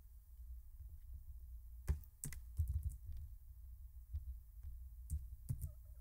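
A computer keyboard is typed on while writing JUnit exception test code. Soft, irregular clusters of key clicks sound close but quiet over faint room hum, with no speech.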